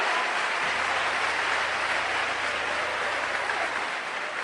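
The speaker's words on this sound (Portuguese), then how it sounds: "É para aplaudir, é?" Applause from a church congregation at a miracles worship service, a steady dense wash of clapping heard alone at moderate level, sustained without a break throughout.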